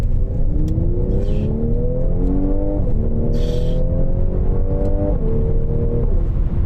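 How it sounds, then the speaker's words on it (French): A Mercedes C43 AMG accelerates hard in sport mode, its engine note climbing steadily and dropping abruptly at each violent gear shift, loud and continuous with no talk. "On sent plus la route, les passages de rapport sont violents."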